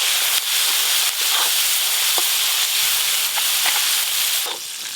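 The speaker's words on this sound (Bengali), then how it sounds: "এবার চিংড়ি মাছগুলো ভেজে নেব।" Prawns frying in hot oil in a home kitchen, giving a loud, continuous sizzle and hiss with a few faint clinks and stirs, and no talking.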